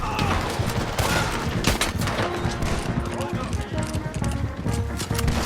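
Dense gunfire rattles through a shootout in Red Dead Redemption 2, overlapping rifle and pistol cracks with thumping hoofbeats and shouted voices mixed in, loud and continuous.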